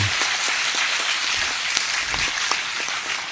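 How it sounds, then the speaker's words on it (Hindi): An audience at a patriotic Hindi poetry recital claps in a short, sparse burst of applause, scattered hand claps crackling moderately loud, with no voices. "इतनी तालियों से नहीं होगी साहब।"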